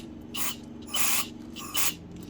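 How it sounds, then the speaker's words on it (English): Three short hissing bursts of spray from the emulsion circuit of a Holley Demon 625 carburetor during a rebuild, with a steady low hum between bursts. "you should be able to get a bunch of spray to come out of the emulsion circuit"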